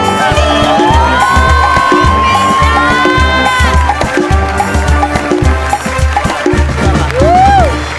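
Studio audience cheering and clapping for a Marathi comedy sketch performance, a loud steady crowd roar with whoops layered over music, continuing for several seconds.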